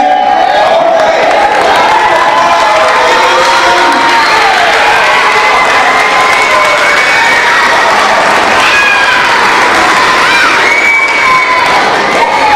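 A large crowd claps and cheers loudly and steadily, with excited children shouting and whooping throughout.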